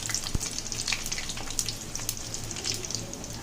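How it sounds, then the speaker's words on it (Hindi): Whole spices sautéing in hot oil, a dense crackling sizzle with bright pops running steadily throughout, one low thump near the start, no speech. "जैसे ऑयल गर्म होगा हम इसमें ये खड़े मसाले ऐड कर देंगे, स्टिर करेंगे। हमने हल्का सा इसे बस सौते करना है।"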